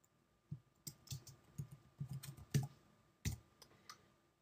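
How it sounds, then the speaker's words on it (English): Fast typing on a computer keyboard, with a quick burst of close, crisp key clicks in an irregular rhythm and a couple of louder strikes that stand out, all with no voices. "Here, I'll type something really fast."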